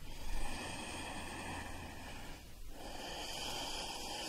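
A long, steady exhale during a yoga downward dog pose comes through as close breathy air with a slight snort-like texture, dipping briefly before continuing.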